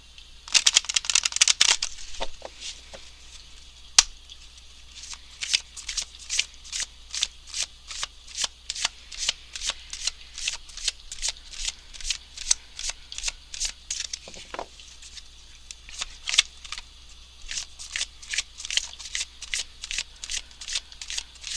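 Tarot cards are shuffled by hand for a reading, with a long, steady run of dense riffling and flicking close to the listener and a few louder slaps, alone without talk.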